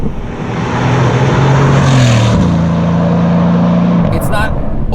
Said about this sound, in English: It sounds like a great AMG V8